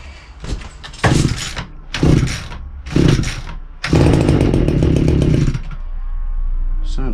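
A Stiga petrol strimmer/hedgecutter fitted with a new carburettor sputters through several short pull-start bursts, then catches and runs steadily for a couple of seconds before cutting out to a low idle hum.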